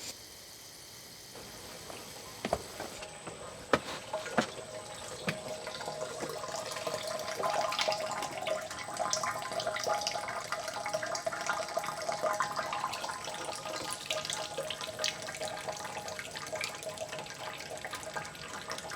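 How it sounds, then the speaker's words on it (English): Water sprayed onto a roof runs steadily through a homemade rainwater collection system, a continuous trickling rush that builds after a few faint knocks and keeps flowing with no talk. "I will quickly shoot some water up on the roof, and you can see this thing in action"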